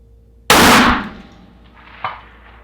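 A single sharp, loud shot from an Accuracy International AI-AT rifle cracks close by with a long rolling echo, followed about a second and a half later by a fainter distant clang of the bullet striking a steel plate.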